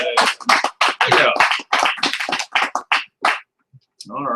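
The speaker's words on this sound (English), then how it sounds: "So welcome, round of applause." A small group applauds a guest at an FMLS HomeSnap session, a short burst of close, uneven clapping that dies away after about three and a half seconds before a voice picks up again.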